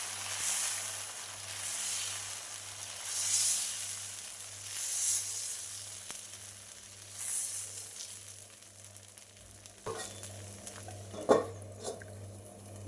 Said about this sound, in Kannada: ಇನ್ನು ಒಲೆ ಮೇಲೆ ಕಾವಲಿಟ್ಟು ನಾವು ಉದ್ದಿನ ದೋಸೆ ಎಲ್ಲ ಹೊಯ್ತೇವಲ್ಲ, ಅದೇ ರೀತಿಯಲ್ಲಿ ಇದನ್ನು ಹೊಯ್ದರಾಯಿತು.